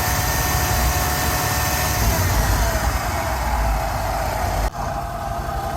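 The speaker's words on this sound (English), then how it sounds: "run the engine at 2000 RPM to kind of purge the system" A Rolls-Royce Silver Shadow engine running steadily at 2000 RPM during carburettor tuning, a continuous drone with a brief dip near the end.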